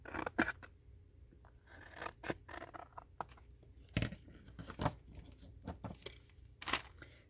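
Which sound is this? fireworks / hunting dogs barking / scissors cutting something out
scissors cutting something out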